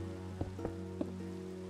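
Steady rain falls in the Minecraft video game, a constant soft hiss with a few faint drops and game blips over a low sustained tone, with no voice present.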